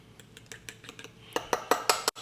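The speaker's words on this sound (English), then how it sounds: "mixing this in the ramekin it's gonna cook in" Keto English muffin batter made with almond flour being stirred in a ramekin, a run of light, fairly quick clinks and taps of a utensil against the dish that grow louder and sharper toward the end, with no talking.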